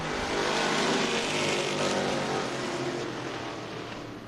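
A pack of Pro Stock race cars at Tucson Speedway roars off the green-flag start in one loud, dense engine howl that eases slightly as they pull away.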